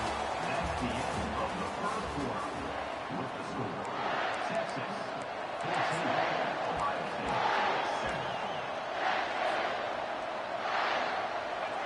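Steady roar of a big stadium crowd at an Ohio State vs Texas college football game, a dense wash of noise with swelling surges of cheering, sustained throughout.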